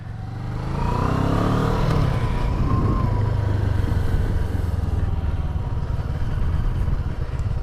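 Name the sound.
CFMOTO 650NK parallel-twin motorcycle engine riding off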